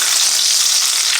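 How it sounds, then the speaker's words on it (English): Steady, loud sizzling of chicken frying in a hot pan, continuous and close. "Now you can hear the thing starting to sizzle a little bit."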